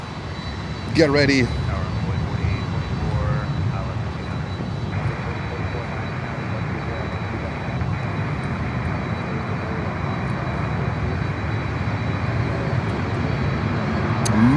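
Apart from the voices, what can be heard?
LATAM Cargo Boeing 767 landing at Miami airport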